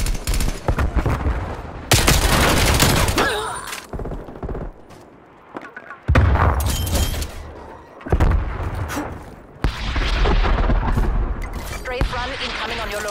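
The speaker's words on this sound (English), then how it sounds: "Strafe run incoming on your location." Aircraft strafe run gunfire in Call of Duty Black Ops Cold War, loud bursts of rapid shots and booms coming in several waves with brief lulls between, a voice speaking over parts of it.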